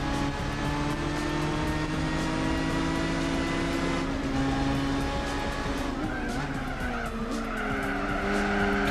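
A race car in Gran Turismo 4 skids off the track during a one-make club race, its engine whine holding steady under a long, loud tire squeal that bends in pitch as the car slides.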